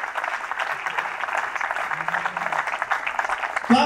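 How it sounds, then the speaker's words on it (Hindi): An audience at a Hindi stage event gives a guest a warm round of applause, steady and moderately loud clapping from many hands that carries on for several seconds. "जोरदार तालियों के साथ इस्तकबाल कीजिए"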